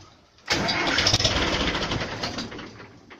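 A Ursus C-360 tractor engine, just fitted with a repaired starter, cranks and catches after a brief quiet moment, then runs loud and rough for a few seconds.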